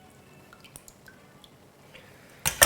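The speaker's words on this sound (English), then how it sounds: "You really wanna push down on the strainer to get all that extra cantaloupe juice" Cantaloupe juice dripping through a strainer, a sparse run of small, quiet drips and squishes ending in a louder wet burst as the pulp is pressed down.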